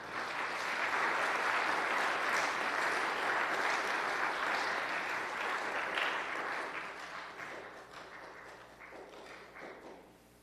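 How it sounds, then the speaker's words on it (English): A school awards-ceremony audience claps for its three-sport athletes, a thick, even patter of many hands that holds strong for several seconds before gradually thinning and fading out near the end. "A round of applause for our three-sport athletes."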